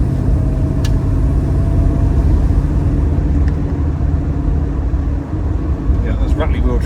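A 1972 Triumph Stag Mk1 with its 3.0 engine and manual overdrive runs in a steady, close mid-pitched rumble, continuous throughout with a faint rattle from loose wheel trims.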